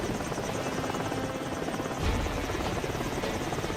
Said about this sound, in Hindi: छोटू लंबू हेलीकॉप्टर लेकर जंगल की तरफ बढ़ते हैं और जंगल में गुफा के पास उसे लैंड करा देते हैं।